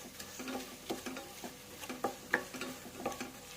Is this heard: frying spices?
yes